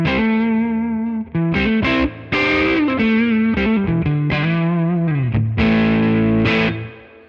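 Electric guitar through a Tone King Preamp pedal with the full pedal on, a loud distorted riff of sliding and bending notes and chord changes with a bright, crisp top end, fading at the end.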